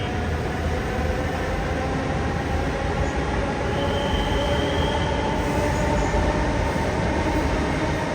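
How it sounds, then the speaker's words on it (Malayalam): Close and loud, a metro train runs along an elevated track in Noida with a continuous rolling rumble, and a brief thin squeal of wheels rises midway through; nobody speaks. "ആ മെട്രോന് അങ്ങനെയാണ് പോകുന്നത്."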